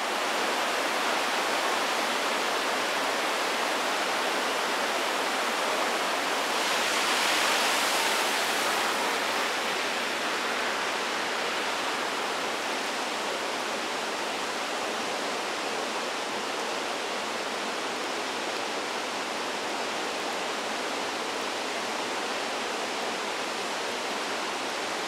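A river in Feres, swollen by heavy rainwater and threatening to flood homes, rushes past in a dense, unbroken roar of water that swells slightly near the start and then holds steady.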